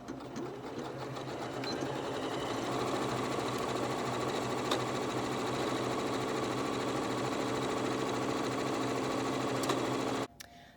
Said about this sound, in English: you're gonna go right along the edge of the fabric. This time, lining up my fabric with the edge of my presser foot.